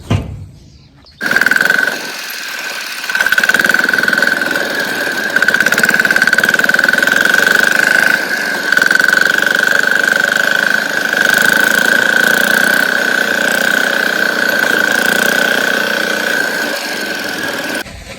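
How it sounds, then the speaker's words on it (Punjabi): A tractor engine idles in a wheat field, a loud, close, steady drone with a thin whining tone that starts abruptly after a short quieter moment and keeps running unbroken. "ਹੁਣੀ ਆ ਕੇ ਮੈਂ ਕਰਤਾ ਟਰੈਕਟਰ ਬੰਦ"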